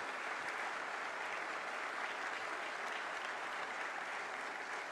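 Dense, steady applause from a large audience welcoming Railway Protection Force soldiers onstage in new battle fatigue uniforms at an official ceremony, loud and continuous throughout without a break.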